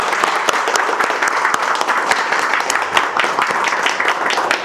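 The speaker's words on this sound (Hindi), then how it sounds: "एक बार जोरदार तालियों से साथ शुरुआत करेंगे बैच की" Batch of students in a classroom applauding loudly together, a dense, continuous burst of clapping with sharp individual claps standing out over the steady wash of hands.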